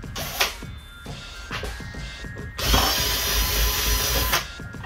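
A power drill whirs in short bursts, then runs steadily at a higher pitch while drilling an ice skate to convert it into an inline skate, close and fairly loud, with no talking.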